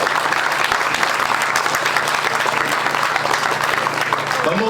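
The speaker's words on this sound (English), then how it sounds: "Give them all a round of applause for everything they do." A walkathon crowd gathered outdoors applauds the event sponsors with loud, dense, sustained clapping that fills the whole stretch evenly.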